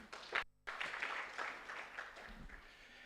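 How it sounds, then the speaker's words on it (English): Attendees at a public policy learning forum applaud, a soft, fairly distant patter of clapping that cuts out briefly near the start and then continues before fading. "Another round of applause."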